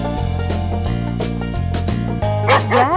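A cartoonish dog barks in short yips over a steady, looping game music bed in a farm animal stacking game, the bark sitting up front and fairly loud.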